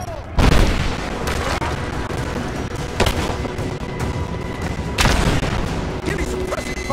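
Gunfire erupts in a Rise of the Tomb Raider combat scene, several loud, booming shots at irregular intervals over a constant roar of battle noise, with voices in the mix.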